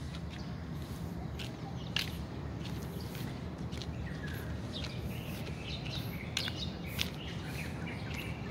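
Many birds chirp and tweet along the Manila Bay seaside, with scattered short calls rising over a steady outdoor wash of city and sea ambience at moderate distance.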